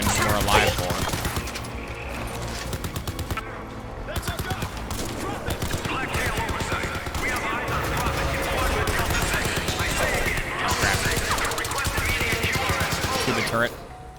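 A hacked turret in the System Shock video game fires continuously in rapid, dense bursts, loud and sustained, with a voice talking over it in places.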